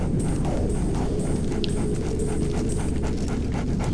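A dog in the video game Splinter Cell pants rapidly and rhythmically over a steady game background ambience. The panting stays close and continuous, with a brief whine partway through.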